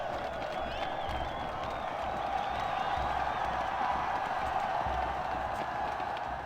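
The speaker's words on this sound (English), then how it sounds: "Enough applause." Crowd applause in a video game, a steady wash of clapping and faint cheering held at moderate loudness throughout.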